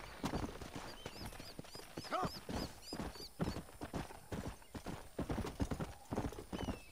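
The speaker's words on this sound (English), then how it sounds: "What are you whinnying about? Or neighing about?" Hooves clip-clop in a quick, uneven rhythm while a horse lets out a short whinny, with faint high chirps in the background, in the video game Red Dead Redemption.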